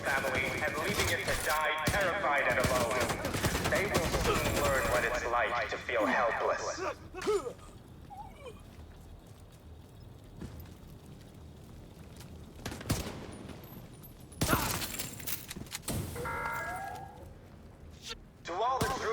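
Video game gunfire breaks out in a heavy burst of rapid shots, then fades before isolated sharp shots return later, with talk and game voices heard between them.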